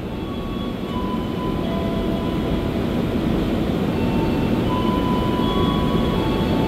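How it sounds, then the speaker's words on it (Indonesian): Wijaya Kusuma train from Ketapang to Cilacap, made up of K1 2009 coaches, preparing to depart. A steady, loud rumble with faint tonal whines runs unbroken throughout, and no one speaks. "Nah, ini persiapan kereta api Wijaya Kusuma dari Ketapang tujuan akhir Cilacap"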